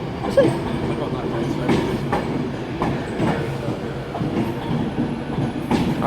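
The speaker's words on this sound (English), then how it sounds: "we have a Virgin Super Voyager for London Euston from Glasgow via Birmingham" A passenger train rumbles past at close range through Carlisle station, with rhythmic wheel clatter over the rail joints and a steady rolling roar; voices are faintly audible.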